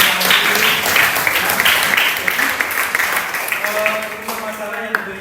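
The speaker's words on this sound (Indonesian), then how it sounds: "berikan aplaus" An audience claps in a classroom, producing loud, dense, sustained applause that lasts throughout and thins slightly toward the end.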